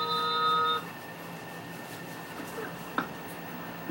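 A telephone rings in a barbershop in Devon, a short bright electronic ring for just under a second, then fading into a murmuring room with faint background noise and a small click near the end.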